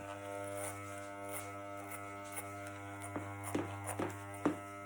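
Electric hair clippers buzz steadily up close while tapering a man's haircut around the hairline, a constant hum with a few soft bumps and scrapes toward the end.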